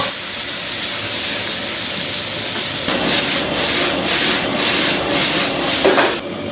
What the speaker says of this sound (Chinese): 咱们再炒土豆